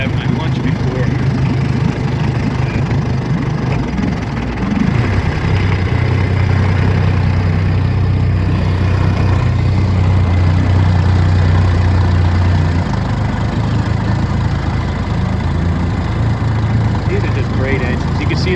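An antique 1959 Elgin 12hp outboard motor built by West Bend runs near a shoreline, giving a loud, steady low drone that holds throughout with a brief dip and shift in pitch early on.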